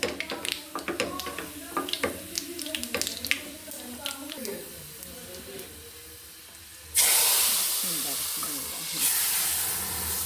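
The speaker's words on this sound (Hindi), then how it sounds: "इसमें प्याज और ज़ीरे का तड़का लगाने लगी दाल को" Onion and cumin tempering hits hot oil for dal with a sudden loud sizzle and hiss that swells again moments later, following a stretch of clattering kitchen sounds and talk.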